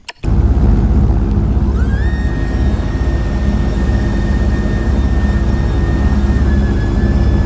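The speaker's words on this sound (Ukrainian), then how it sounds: "Давайте політаємо за літачком." Small airplane flying in the TRYP FPV drone racer simulator game: a steady, loud engine drone fills the whole stretch, with a rising whine settling into a constant high tone after a brief start.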